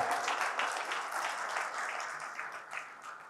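An audience at a human rights short film award ceremony claps as a presenter is called to the stage, a dense, sustained wash of applause that fills the room and gradually eases toward the end.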